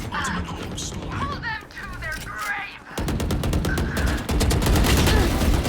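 Rapid automatic gunfire from the Valorant first-person shooter, a dense run of sharp repeated shots that gets louder partway through, with game effects and a voice talking underneath early on.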